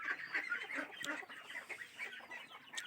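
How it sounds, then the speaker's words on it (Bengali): A flock of ducks comes out of its shed, giving a quiet run of clucking, quacking calls that overlap and repeat irregularly at some distance. "এই আমার হাঁসের দল এখন বেরোবে"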